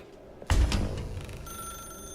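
An old telephone bell rings once loudly in The Stanley Parable, opening with a sharp metallic jangle that decays into a lingering ring, with no voices.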